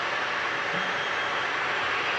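A jet airliner on flight 1313 to Lisbon rumbles and hisses steadily at Manchester Airport, a loud continuous broadband roar with no one speaking.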